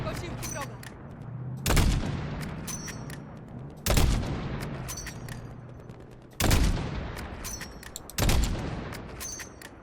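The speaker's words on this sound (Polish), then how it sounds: "Wow, doszło do jakiegoś wybuchu." Explosions and gunfire from the video game Call of Duty Modern Warfare, four loud booming bursts spaced a couple of seconds apart, each decaying into rumbling debris over continuous background battle noise.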